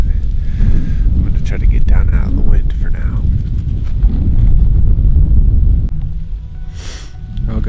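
Strong wind buffets a mountain ridge top, a loud continuous rumbling roar against the microphone with gusts rising and falling and a brief hiss near the end.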